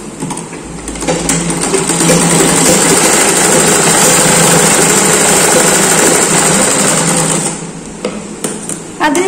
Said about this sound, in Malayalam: പതിച്ച് സ്റ്റിച്ച് ചെയ്തെടുക്കാം